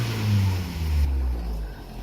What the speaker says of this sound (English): Revs up and takes throttle fine.